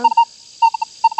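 Manticore metal detector in ATHC mode with an M9 coil, giving short clean electronic beeps in quick clusters of two and three, separated by brief silences, loud and close as it signals nails.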